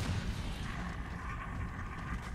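Gunfire from the video game Gears of War 3 during a shotgun battle, a dense, continuous rumble of game weapon fire and mechanical clatter holding steady and fairly loud throughout.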